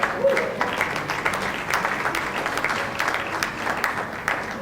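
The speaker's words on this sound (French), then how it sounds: "Est-ce qu'on peut applaudir le Dieu qui répond lorsque nous sommes dans la détresse?" Congregation at a national church convention breakfast applauding in a steady, moderately distant patter of many hands, with a few louder claps poking through and no voices over it.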